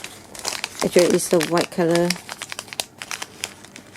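A rice paper bag crinkles and rustles in close handling, crisp irregular crackles between spoken words from a nearby voice.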